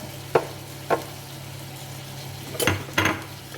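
Pork ribs in sweet soy sauce stirred in a hot pan, with a steady low sizzle underneath and four sharp spoon scrapes against the metal, two spaced early and two closer together near the end, heard close up.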